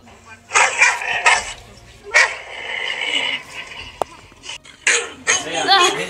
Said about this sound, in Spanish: ¡Está rabioso este perro!